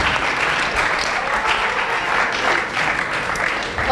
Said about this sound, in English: So yeah, we can clap for them.